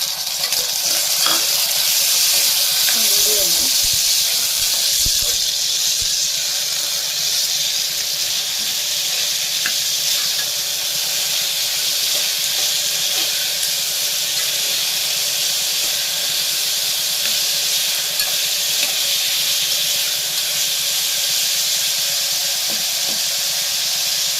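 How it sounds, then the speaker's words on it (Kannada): Onion and green chillies frying in a pan, a steady close sizzle and hiss lasting throughout, with occasional stirring scrapes and no talking. "ಚೆನ್ನಾಗಿ ಫ್ರೈ ಆಗಿದೆ ಕಲ್ಲರ್ ಸ್ವಲ್ಪ ಚೇಂಜ್ ಆಗಿದೆ"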